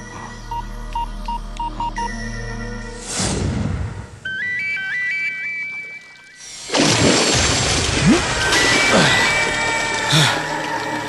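A telephone rings in a tense scene about a special order from the police chief, with a repeating electronic ring pattern mixed with background music and other sound effects.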